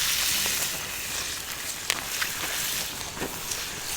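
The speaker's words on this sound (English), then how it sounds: "All of these are going to get thrown right here on the fire along with what I'm making" Pesto provolone cheese sausages sizzle over a campfire in Ocala National Forest, a dense steady frying hiss with occasional small pops and crackles, close and continuous throughout.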